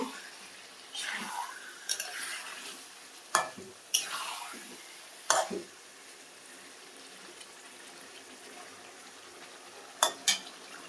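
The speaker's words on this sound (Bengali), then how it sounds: "বন্ধুরা আমি ভালো করে নেড়ে দিচ্ছি" Potatoes are stirred into a pan of stingray fish curry. A spoon scrapes the pan in intermittent strokes, and several sharp metallic clinks are close and fairly clear against a quiet background.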